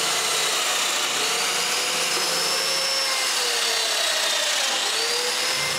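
Domino joiner plunging mortises into wood for a small writing desk, a steady high whine with a cutting rasp, close and continuous with no voices.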